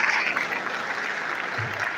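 Audience applause at an academic ceremony in Nigeria welcoming the Vice Chancellor, a steady dense patter of many hands clapping at moderate volume throughout, without a break.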